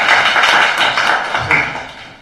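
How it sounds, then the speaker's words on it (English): Audience applause greeting an alumni award winner at a seminar, a dense broadband patter of many hands that stays steady and fairly loud before tapering off toward the end. "Applause, please."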